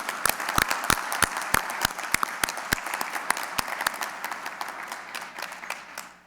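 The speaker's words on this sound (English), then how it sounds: "I do think they deserve a round of applause to break the moderator's rule" A small scattering of hands applauding at a town meeting, distinct sharp claps standing out near the microphone over softer background clapping, thinning out toward the end.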